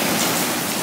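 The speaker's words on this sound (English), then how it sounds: "We brought more rain." Steady rain falling at Norfolk Lake, Arkansas, a dense uniform hiss of drops on surfaces, close and continuous with no other sounds.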